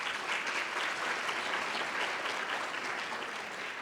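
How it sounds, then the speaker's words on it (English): Steady, full applause from a seated audience at a university induction brunch honoring alumni, continuous and even throughout with no voices on top. "You all give them another round of applause."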